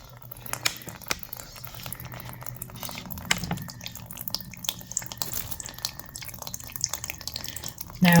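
Water escapes a household radiator valve opened with a bleeding key, a steady close trickling hiss with small splashes and drips that runs throughout.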